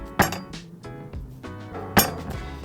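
Two hard, dry knocks about two seconds apart as a stiff, solid 60-day dry-aged steak is dropped onto a wooden board, with faint room noise between.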